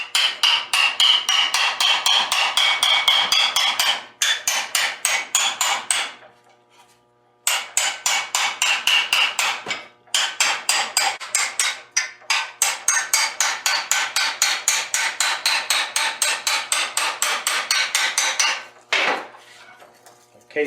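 A small hammer strikes a 1/8-inch-thick meteorite billet casing to wedge it open, giving rapid bright metallic taps in dense bursts with short pauses between, close and loud with no talking.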